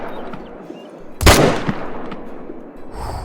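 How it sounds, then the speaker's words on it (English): A single loud rifle shot at an animal in the hunting game Call of the Wild, sudden and close, with a short echo rolling away into quiet outdoor ambience. "If you don't move, I'm still taking the shot."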